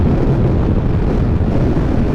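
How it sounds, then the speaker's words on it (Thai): Strong storm wind roars continuously and loudly over a rider on a Honda CBR650F motorcycle, a dense, steady buffeting rumble with no breaks and no voice over it. "ไม่เฮียลมโคตรแรงอ่ะ"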